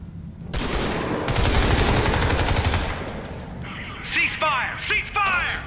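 Sustained automatic weapon fire in the Crysis 3 game, loud continuous rattling bursts for several seconds, then a pause and a few short chopped volleys mixed with shouted voices.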